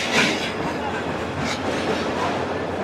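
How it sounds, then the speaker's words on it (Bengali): Agnibina Express train pulling into the platform at Dhaka Airport Railway Station, a steady broadband rumble of wheels and carriages close by, continuous throughout with faint crowd noise around. "এখন কিন্তু প্ল্যাটফর্মে অগ্নিবীণা এক্সপ্রেসটাই ঢুকতেছে।"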